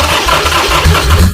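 A motorcycle engine fitted with a fresh carburetor, an S&S Super E or a cheap clone, turns over and tries to fire, giving a brief loud rumbling burst up close.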